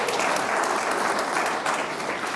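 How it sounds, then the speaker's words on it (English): An audience at the Summit County State of the River gathering gives a short, steady round of applause, an even wash of clapping with no voices. "If we could give them a round of applause"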